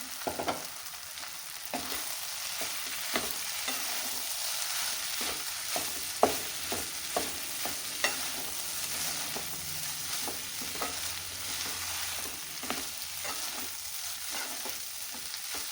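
Hotel-style vegetable fried rice is mixed in a hot pan. A steady frying sizzle runs throughout, with a repeated clatter of stirring and scraping strokes close by and no voices.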